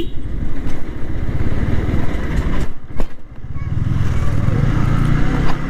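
Motorcycle ridden over a broken, rough rural road, its engine droning loudly and steadily throughout with bumps and rattles breaking in, and a brief dip in the noise near the middle.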